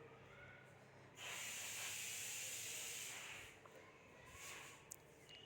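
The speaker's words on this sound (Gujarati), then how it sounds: "હવે આપણે જીરાને બરાબર ફૂટવા દઈશું" Cumin seeds crackle and sizzle in hot oil in a pan, a steady loud hiss that swells up after a second, holds for a couple of seconds, then thins into scattered pops and sputters.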